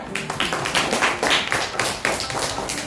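A classroom of pupils claps hands in a teaching-practice lesson, with irregular sharp claps bunched into several short bursts, fairly close and moderately loud, with no talk over them.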